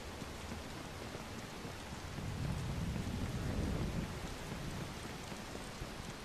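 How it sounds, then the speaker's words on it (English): Steady rain hisses throughout a street scene in the game Watch_Dogs, with a low rolling rumble of thunder swelling in the middle and then easing back under the downpour. "Seems to always be raining."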